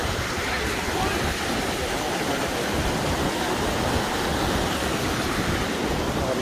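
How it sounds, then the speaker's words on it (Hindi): Alberta Falls, a waterfall near Estes Park, Colorado, gives off a steady, dense roar of rushing water that holds even and unbroken throughout, close and fairly loud. "ये झरना नीचे से होते हुए"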